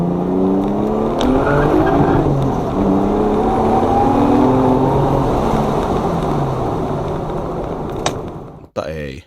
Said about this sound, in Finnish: mutta tein suorilla kiihdytyksiä.